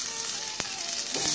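Ginger and garlic sizzle in hot oil, a steady close crackling hiss with one sharp pop partway through and a brief stir near the end, no voices.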